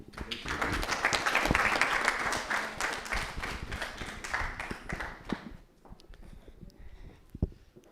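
Applause from a conference audience in Nairobi, a dense patter of many hands clapping for several seconds, then thinning to scattered claps and taps.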